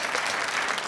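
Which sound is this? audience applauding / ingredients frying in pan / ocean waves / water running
audience applauding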